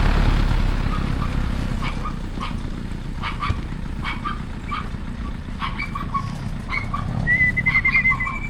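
Racing pigeons stirred up at a loading site, with scattered chirps and short calls over a steady low outdoor rumble, some near and some farther off.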